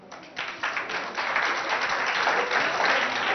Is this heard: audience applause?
yes